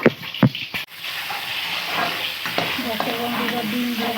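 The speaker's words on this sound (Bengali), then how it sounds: "ডিম ভাজা নুন হলুদ দিয়ে হয়ে গেছে।" Eggs frying with salt and turmeric in a hot pan give a steady, close sizzle and hiss, with a few sharp clinks of utensils at the start.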